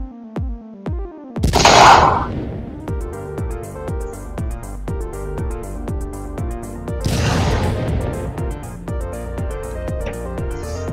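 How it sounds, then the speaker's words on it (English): A projectile gun fires in an Unreal Engine 4 bot fight demo game: two noisy blasts several seconds apart, over steady rhythmic game music. "This is a test of the FP gun projectile weapon"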